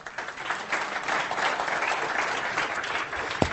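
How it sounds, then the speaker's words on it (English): An audience applauds a volunteer who has come up on stage, a steady, fairly close clapping that lasts about three and a half seconds with no speech over it. "Give him a nice round of applause."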